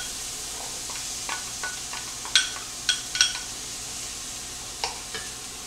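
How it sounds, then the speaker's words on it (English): Diced onion frying in butter in a hot pot, a soft steady sizzle with several light clicks and scrapes from stirring scattered over it. "What we want to do is soften down the onions and get them a nice little color to them."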